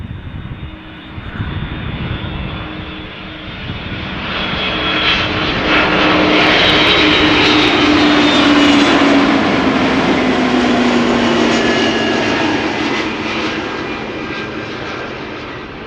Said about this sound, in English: A300 600, which began its career as a professional airplane in 1993.